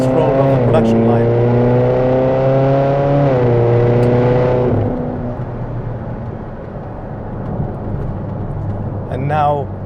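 A Ferrari California with a 4.3 litre V8 revs loud and close, its pitch rising then holding before the engine note drops away to a lower rumble, with a second brief rev near the end.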